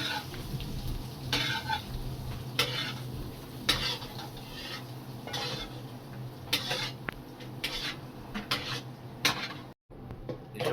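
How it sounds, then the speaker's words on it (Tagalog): Oil with butter, garlic, green chili and mussels sizzles in a pan, a faint crackling hiss with occasional stirring scrapes and clatters, close by, without talk. "pinapainitan natin yung mantika ngayon. Tunog pa lang, mahusay na."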